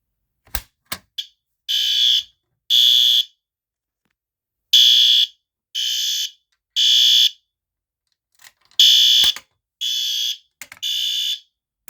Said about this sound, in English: some kid had pulled the fire alarm in the building